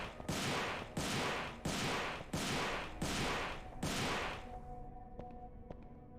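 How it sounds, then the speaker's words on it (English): A shotgun fires in the Devil May Cry video game: six loud, heavy blasts land in a steady, rapid rhythm, each one booming up close, and the last fades into a short ringing tail with no voices. "the shotgun fires normally this fast"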